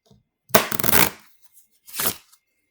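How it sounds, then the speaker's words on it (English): A deck of playing cards is shuffled up close, a half-second riffling burst followed by a shorter second riffle, crisp and alone. "Do a quick shuffle to see what we're stitching next week."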